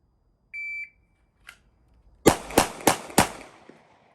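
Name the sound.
rifle shots, final volley at shooting stage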